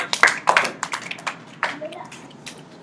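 Children applauding at the end of a class session, a few short bursts of clapping mixed with a teacher's voice and children's chatter.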